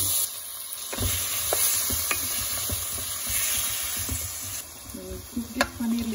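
Marinated paneer sizzling in butter in a pan, a constant close hiss with scattered pops and stirring scrapes. Faint speech comes in near the end.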